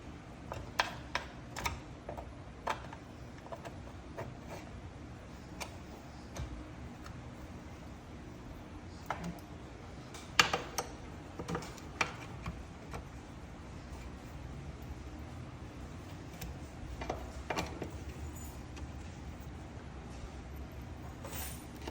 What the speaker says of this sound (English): So now I'm going to torque them down.